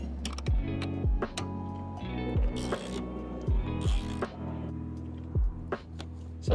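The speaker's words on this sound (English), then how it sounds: "12mm spanner on top." A 12mm spanner works the mount nut of a towing mirror extension on a 70 Series Landcruiser, giving a run of close, sharp ratcheting clicks and metallic taps at a loose, uneven rhythm.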